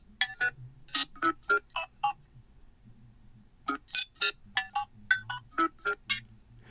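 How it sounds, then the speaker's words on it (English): Incoming-call ringtone from a Nothing Phone (1) resting on a table: a quirky pattern of short, bright electronic blips in two clustered phrases with a brief gap, fairly clear with no talking. "You're getting a phone call, a notification."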